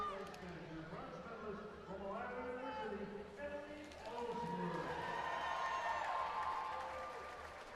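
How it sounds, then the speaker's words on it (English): Falcons fans cheer and applaud from seats close by at an indoor swimming championship pool, a sustained crowd roar under a commentator's voice that swells midway through. "getting a loud round of applause from the Falcons fans sitting just in front of us here"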